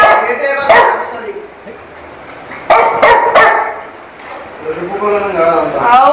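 A dog barks in short sharp bursts, close by, mixed with loud excited talking and a few whimpering yips toward the end.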